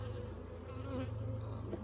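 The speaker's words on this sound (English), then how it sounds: "I'm gonna shake some bees into it just to give them some more population." Honey bees swarm around an open hive while a split colony is moved into a new box. A dense, steady buzz fills the air close by, with no talking.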